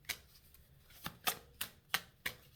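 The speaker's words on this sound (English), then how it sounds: "Final shuffle." A deck of cards is shuffled in a series of six quick riffling bursts, each a short crisp rustle with a soft tail, fairly faint and close, with no talking.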